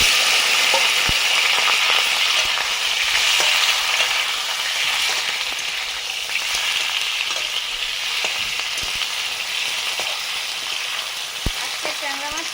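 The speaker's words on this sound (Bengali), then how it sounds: "ট্যাংরা মাছের রান্না করবো। ভাজবো, তেল গরম হয়ে গেছে।" Tangra fish fry in hot oil with a loud, continuous, hissing crackle that holds steady throughout, with occasional faint clicks of utensils.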